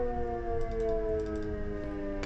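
A weather warning siren in Minecraft wails with a steady, sustained multi-tone howl, loud and close throughout, with faint clicking keystrokes underneath and no talking.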